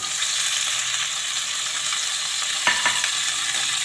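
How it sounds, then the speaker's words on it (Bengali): Yellow and green capsicum fry lightly in a little olive oil, a steady close sizzle throughout with a few brief stirring clatters near the end, no talking. "একটু অলিভ অয়েল দিয়ে আমি হালকা করে ফ্রাই করে নেব।"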